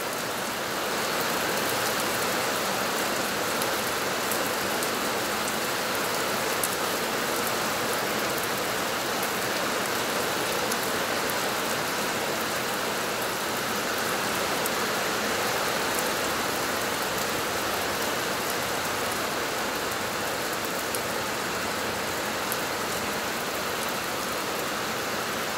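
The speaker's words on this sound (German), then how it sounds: "Regen." A heavy summer rain shower, the first summer rain of the year, falls as a dense, even hiss of drops on surfaces. It stays loud and unchanging the whole time, with no voices.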